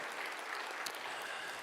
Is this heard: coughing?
no